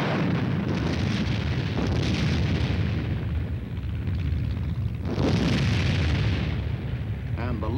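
Heavy anti-aircraft artillery guns fire in loud, rolling booms that blend into a continuous roar, with a second big blast surging in partway through.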